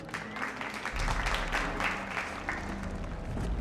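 Slow, steady clapping in the Dragon Age: Origins video game, a soft run of evenly spaced claps over a low background rumble.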